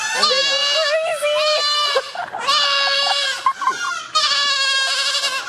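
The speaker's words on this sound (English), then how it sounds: "the crew unleashed screeching goats in the middle of a live report" Several 8-week-old goats bleat in loud, drawn-out, screeching cries, one after another, close by and with no pause between calls, on a morning news show set.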